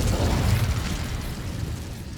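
Incendio fire spell cast in Hogwarts Legacy, heard as a loud, sustained whooshing burst of flame with a deep rumble that slowly fades over about two seconds.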